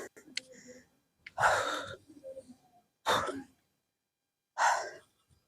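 After climbing the steps of a rocky hill fort at Dindigul in hot sun, a person breathes heavily, with three or four loud, breathy exhales separated by short pauses.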